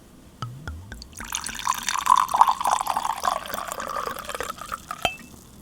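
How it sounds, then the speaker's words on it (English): A drink is poured into a glass, a few opening clinks followed by a steady splashing pour that rises in pitch as the glass fills, ending with a sharp tap, close and clear. "put up your volume. Time for the pour."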